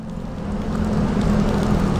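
Steady rain falls around a sheltered motorcycle taxi, a dense continuous hiss building slightly over the first second and then holding even, with a low rumble of traffic or engine beneath it and no talking.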